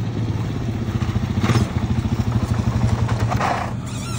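A 400 motorcycle engine idles close by with a steady, lumpy rapid pulse that swells slightly midway, then settles back, alone without talk.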